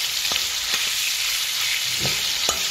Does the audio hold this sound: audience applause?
no